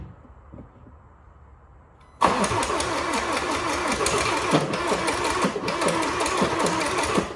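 Range Rover Evoque with an Ingenium diesel engine, injectors recently refitted, cranking over on a weak battery: after quiet background a loud, steady churning starter whir begins abruptly and runs on without catching.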